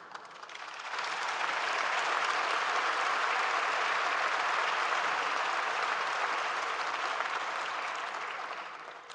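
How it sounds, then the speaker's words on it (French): Sustained audience applause at a French business panel featuring a company founder, a dense steady clatter of many hands clapping that swells in within the first second and holds evenly throughout before easing slightly at the end. "ces applaudissements sont mérités"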